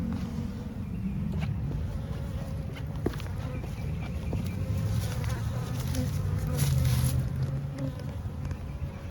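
Honey bees from a donor hive swarm and buzz in a dense, steady drone that holds for the whole stretch, close and fairly loud, with no voices.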